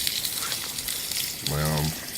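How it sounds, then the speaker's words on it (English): Food frying in a pan at a campsite on a solo hike in Jamaica's Blue Mountains, a soft sizzle under a steady background hiss, with a brief tonal swell near the end. "Just frying them from now to make sure that they don't spoil."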